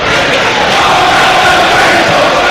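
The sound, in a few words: football crowd applauding Edwards at Home Park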